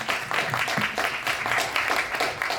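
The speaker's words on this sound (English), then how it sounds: "Yes, everyone, please give a round of applause." Scattered audience applause from a crowd at a winter poetry showcase, a dense, steady patter of many hands lasting a couple of seconds without a break.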